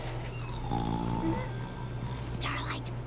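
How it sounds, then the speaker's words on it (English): A cartoon pony character snores in a cramped hammock setting, a low rhythmic rumbling breath held steady throughout, with a sharper snorting burst near the end. "Someone snores."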